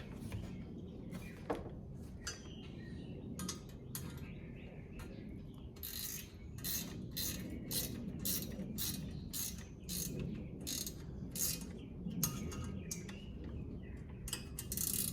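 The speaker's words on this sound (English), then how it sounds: "so I hold it this way and just tighten it up" A screw being tightened on a Baja Designs ONX6+ light mount for a 2015-2023 motorcycle, heard as a quick run of sharp ratcheting clicks in bursts, fairly close, with faint birdsong in the background.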